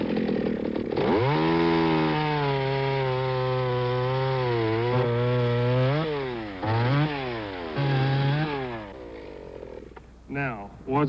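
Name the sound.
steel chainsaw cutting wood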